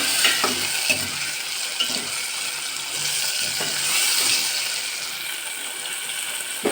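Onion and tomato sautéing in a pan, a steady close sizzle with occasional scraping stir strokes against the pan, continuous throughout without talking.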